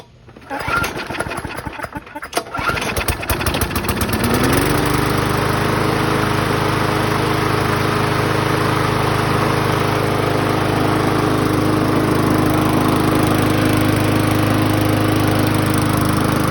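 Craftsman lawn mower with a Briggs & Stratton engine and Troybilt deck, water in the gas, rattles through a few pull attempts, catches, then settles into a loud, steady close-up running drone.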